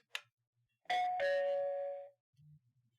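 A Bosma X1 video doorbell chime sounds after the button press: a short click, then a clear two-tone ding-dong ringing out alone and fading, followed by a faint soft tone.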